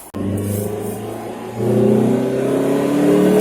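A Renault Twingo 2 RS engine accelerates, heard from inside the car in traffic: a brief click, then a steady engine hum that swells louder as the revs climb, with rising tones partway through.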